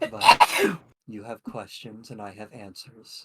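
One loud, sharp human sneeze bursts out at the start, followed by someone speaking calmly.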